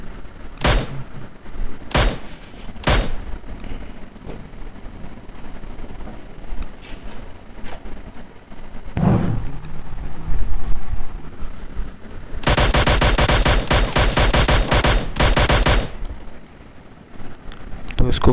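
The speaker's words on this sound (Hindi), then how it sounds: "तो मेरे पास मिनी 14, तो फिर भी मैं इसको मार रहा हूँ।" Mini-14 rifle fire in a squad-based shooter video game: a few sharp, separate single shots early on, then a long dense run of rapid gunfire near the end, loud over a constant background hum.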